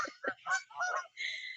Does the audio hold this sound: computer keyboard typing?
no